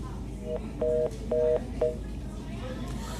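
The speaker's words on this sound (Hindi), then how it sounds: "तो जो फोन कॉल है वो कट हो चुका है।" Several short paired electronic phone tones, like dialing or disconnect beeps, sound over steady background noise on a telephone call during a news broadcast about a student protest.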